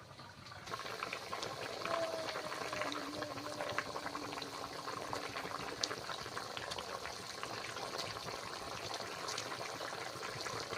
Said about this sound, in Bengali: তো দেখো তরকারিটা বেশ ভালোভাবে ফুটছে